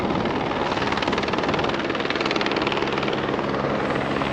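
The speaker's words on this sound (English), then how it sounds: "I'm getting followed by a helicopter right now" A helicopter follows a cyclist, its steady rotor thump and engine drone loud and continuous overhead without letup, alone with no voices.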